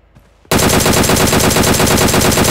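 Automatic gunfire in a competitive multiplayer shooter game breaks out abruptly after a short quiet moment, a loud, rapid, evenly spaced stream of shots continuing without pause to the end.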